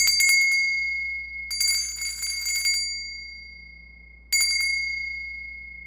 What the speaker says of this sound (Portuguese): O sino da igreja tocava às 5 da tarde e a criançada já sabia.